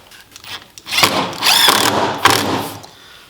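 Pilot holes are drilled into wood for countersunk screws on a torsion box assembly table, the power drill whirring in several close, uneven bursts of rising and falling pitch, with no voices.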